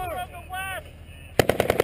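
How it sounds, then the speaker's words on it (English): Gunfire in an Afghanistan firefight involving U.S. Army soldiers: after brief speech, a rapid machine-gun burst of about five sharp, loud shots closes the stretch. "We got fire from the west."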